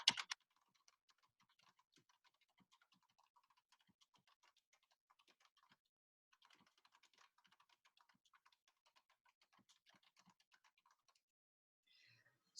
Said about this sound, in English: Let me type this real quick.